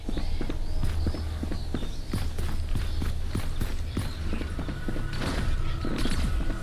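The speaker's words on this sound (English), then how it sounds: "Ooh, horse." Horse hooves clip-clop at a steady trotting rhythm in a video game, close and fairly loud, with scattered game sound effects layered around them.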